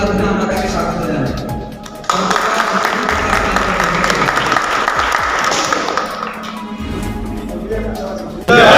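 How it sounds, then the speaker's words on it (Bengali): Audience applause welcoming a speaker at a felicitation for a local legislator, a burst of clapping that swells and holds for several seconds beneath a voice on a microphone. "আসুন জোরে করতালির মাধ্যমে আমরা তাকে স্বাগত জানাই"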